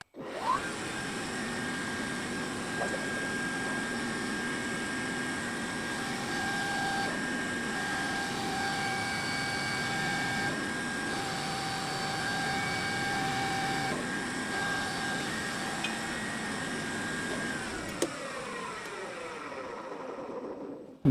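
A metal lathe cutting steel and unintentionally turning a heavy taper, giving a steady, continuous machine hum with a high whine that runs evenly and close by until it winds down near the end.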